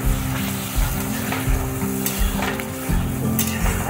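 A Bengali vegetable curry sizzles loudly in a pan as it is stirred, a constant frying hiss with rhythmic scraping strokes.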